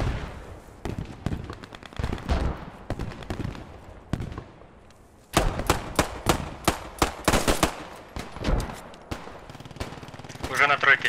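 Rapid bursts of game gunfire crack repeatedly, some in fast automatic strings, with a voice talking over parts of the clip, during a tournament match of Post Scriptum.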